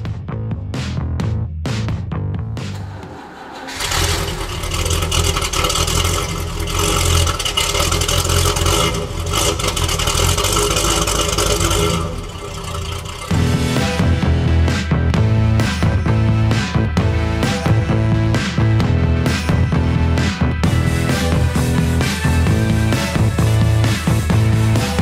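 A Range Rover Classic V8 starts up with a cranking burst, then settles into a loud, steady engine rumble that rises as the vehicle pulls away and drives off.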